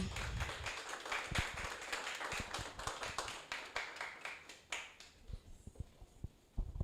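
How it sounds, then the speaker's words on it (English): Scattered clapping from a meetup audience at a business talk, quiet and somewhat sparse, individual claps audible and thinning toward the end. "let's not stop clapping"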